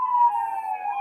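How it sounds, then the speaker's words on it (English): A police car siren sounds loud and close, one sustained wailing tone that drifts slowly in pitch with no talk over it. "That's my police sirens."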